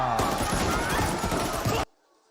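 Dense, continuous gunfire from a massacre scene in the film Sardar Udham, loud and relentless with overlapping crowd noise, cutting off abruptly into near silence.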